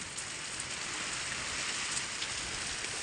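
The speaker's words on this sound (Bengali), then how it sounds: "এরকম ঝড়ের গতিতে বৃষ্টি হচ্ছে" Heavy rain pounds down during a storm in a rural yard with mango and jackfruit trees, a dense, steady roar of drops hitting surfaces at close range throughout, with no voices.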